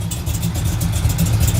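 A 1969 Chevrolet Greenbriar wagon with a 427 cubic inch engine and a freshly replaced exhaust gasket runs steadily, its loud, deep idle rumbling close by without any talk.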